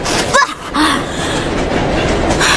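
An anime train rolls along steadily with a continuous rumbling, clattering noise that is loud and close, and a brief squeal near the start.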